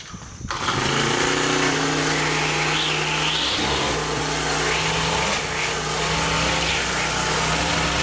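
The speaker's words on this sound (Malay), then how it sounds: "Pengalaman mesin rumput menjadi lebih hebat kerana rumput senang untuk dipotong" A Honda GX35 brush cutter engine runs continuously at a steady, loud drone, its buzzing whine rising and dipping slightly as it cuts through grass.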